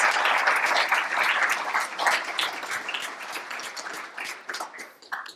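Audience applause at a climate discussion event, a dense burst of clapping from a room full of people that holds steady, then gradually thins and fades toward the end.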